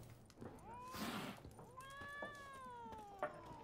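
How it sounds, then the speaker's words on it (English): A cat in a video game gives a short hiss followed by a couple of drawn-out, wavering meows, quiet and close. "Stupid cat, get out of the way! Stop hissing at me."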